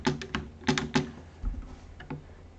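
A computer keyboard clicks while code is copied during Python programming, with a few crisp keystrokes in quick clusters followed by sparser, quieter taps.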